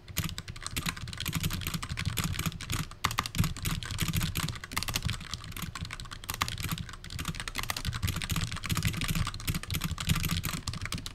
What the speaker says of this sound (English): I'm just going to press 1 to type the next verse.